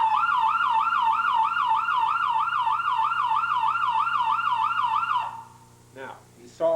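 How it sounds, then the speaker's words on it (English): A home security alarm siren, tripped by someone walking down a hallway, wails loudly in a fast, even up-and-down warble for about five seconds, then stops abruptly, leaving a few faint knocks. "You heard the siren."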